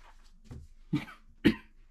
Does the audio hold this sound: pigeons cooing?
no